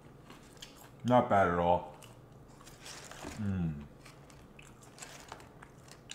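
Arby's crinkle cut fries are bitten and chewed close to the mic, soft crunchy mouth sounds between a couple of short spoken remarks.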